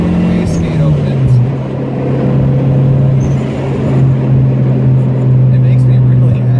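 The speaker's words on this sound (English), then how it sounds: "honestly, it just sounds so good when the wastegate opens" Turbocharged car fitted with an aftermarket boost controller, its engine droning steadily and rising under acceleration, with brief airy hiss bursts from the turbo wastegate opening; loud, close and continuous throughout.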